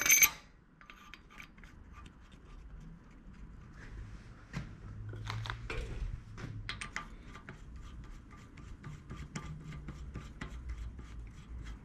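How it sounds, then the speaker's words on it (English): Oiled cylinder head bolts threaded loosely by hand into a Toyota Corolla engine head during a rebuild, giving soft intermittent metallic rasps, scrapes and small clinks close by, with no talking. "We'll just loosely wind them all in for now."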